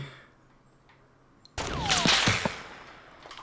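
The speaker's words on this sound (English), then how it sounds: "how many times are these guys gonna shoot me?" Gunfire in the Fortnite battle royale game: quiet at first, then a sudden loud burst of shots and impacts with a sweeping whistle, continuing as a dense, noisy volley for about two seconds.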